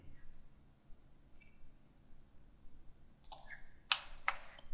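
A computer mouse clicking during CAD work, with a few faint isolated clicks early, then a short cluster of sharp, close clicks near the end in a quiet room.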